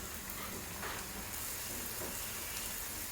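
Ginger, garlic and green chili paste sizzling with onions in a pan for carrot and potato dry curry, a soft, steady frying hiss with faint stirring, fairly quiet and without talk.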